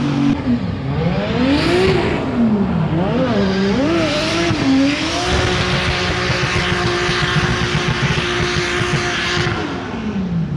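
A drift car at the Halloween Open Drift 360 contest at Evergreen Speedway revs hard in rising and falling bursts, then settles into a long, loud tire squeal with the engine droning underneath, close and continuous.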